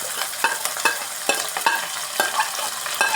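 Garlic, ginger, green chili and shallots fry in hot oil for a fish pickle, with a utensil scraping and stirring the pan in quick, regular strokes over a steady close sizzle.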